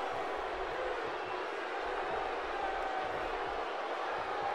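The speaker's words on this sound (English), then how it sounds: "Crowd loves me." A broad, steady crowd roar from a WWE 2K17 wrestling match fills the scene, sustained and even, with no clear peaks.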